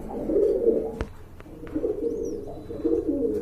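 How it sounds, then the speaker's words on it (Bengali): A pair of large Giribaz pigeons coo in soft, repeated low phrases close by, with a sharp knock and a faint higher chirp in between. "বিগ সাইজের এক জোড়া সুন্দরী গিরিবাজ কবুতর রয়েছে"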